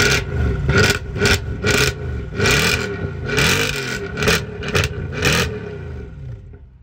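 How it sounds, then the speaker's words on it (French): A Mercedes C63 AMG engine revs hard and close, about eight sharp throttle blips in quick succession, each a loud, rasping roar that swells and falls back, with no talking and a quieter tail at the end. "je te laisse nous faire écouter le son de la voiture"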